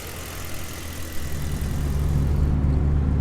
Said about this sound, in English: Car's so quiet with the exhaust on it